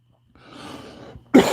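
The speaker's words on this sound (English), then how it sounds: "Sorry about the coughing and the slurping." A short, sharp cough bursts out at the end, following a stretch of soft, breathy noise close to the microphone.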